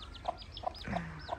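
A hen on a farm clucks a few short, evenly spaced times at moderate distance over steady outdoor background noise, with a brief low call near the middle.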